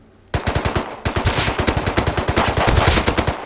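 Rapid P2 pistol fire in the survival game Rust, a quick string of sharp close shots after a brief pause, cracking in a fast, slightly uneven rhythm for about three seconds.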